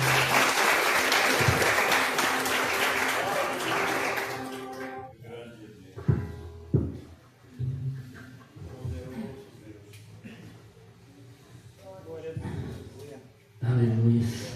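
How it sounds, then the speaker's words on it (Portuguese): Congregation clapping at a church worship service, a dense burst of applause for the first five seconds that fades out, followed by scattered voices and louder calls over a quieter room. "Aplauda o Senhor."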